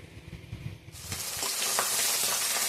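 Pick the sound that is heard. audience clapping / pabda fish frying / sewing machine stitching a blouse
pabda fish frying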